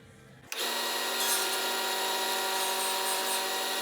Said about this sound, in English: I'm just going to sand this piece a little bit on each end.